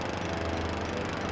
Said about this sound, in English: Marv looked up just in time to see the churning blades of a lawnmower appear above him.